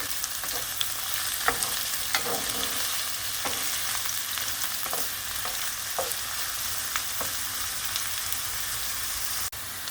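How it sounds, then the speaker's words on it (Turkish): Okra and onion sizzle steadily in a hot pan, with scattered crackles and the soft scrape of stirring throughout. No voices. "hepsine birlikte 1-2 dakika daha kavuracağım"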